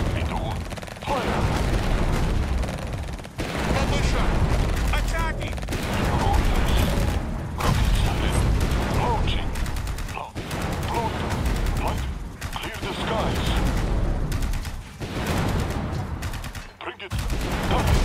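Sustained gunfire and explosive battle noise from the Tempest Rising strategy game, with dense bursts and booms running almost continuously at high level, mixed with short unit voice lines.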